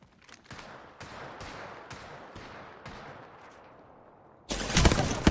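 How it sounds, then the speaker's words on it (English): Repeated gunshots in a first-person shooter video game ring out as sharp single cracks about every half second, each with a fading tail, before a much louder, dense burst of fire erupts at the end. "Opening fire on the enemy."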